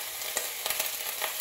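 Garlic and onion fry in a pan with a steady close sizzle, broken by a few soft stirring clicks, and no voices.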